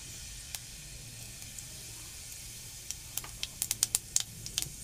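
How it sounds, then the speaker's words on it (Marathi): Mustard seeds and cumin crackle in hot oil in a wok, a sparse run of sharp pops that quicken into a dense cluster of close, crisp spits over a soft steady hiss. "हे पहा, आता राई जिरं टाकतो"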